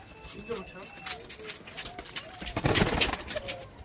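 Pigeons coo softly in low, rolling calls against a noisy, busy background with scattered clatter and rustling.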